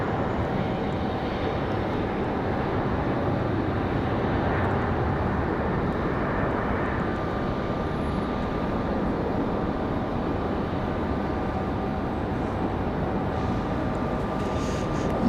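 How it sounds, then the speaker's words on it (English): A JetBlue Airbus A220 touching down at Raleigh Durham airport, a continuous broad engine roar with a faint whine, steady and fairly distant, with no talking. "Nice touchdown for JetBlue. Our second A220 for them today."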